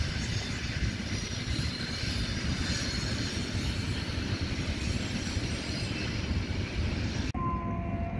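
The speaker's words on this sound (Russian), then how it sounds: "Поезд. Один за другим." Train passing along the shore of Lake Baikal: a loud, continuous rumble and rattle of wheels on rails filling the whole span, close by, with squealing metal, cutting off abruptly near the end.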